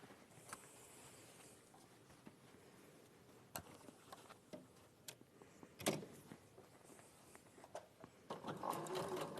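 A sewing machine stitches in the ditch along quilt binding in short, quiet bursts, with sharp mechanical clicks and taps between runs and louder whirring near the end.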